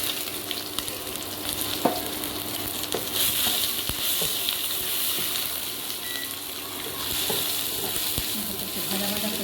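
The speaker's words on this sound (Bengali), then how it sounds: "একটু ভাজা ভাজা করি।" Chopped onion sizzles steadily in a pan with whole cumin seeds, a close, continuous frying hiss broken by scraping stirs and occasional clicks of the utensil against the pan.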